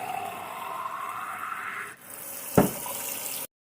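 Water running steadily from a kitchen tap into a pot while cooking red bean gravy, a continuous close rushing splash that shifts briefly partway through before stopping abruptly.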